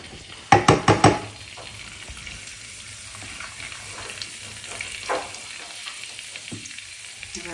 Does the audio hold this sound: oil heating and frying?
yes